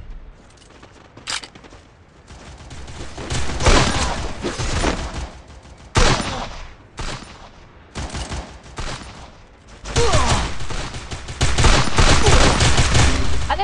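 Gunfire in a shooter video game, with bursts of rapid automatic shots and single cracks that come and go, loud and close, over a rumbling background with no clear speech.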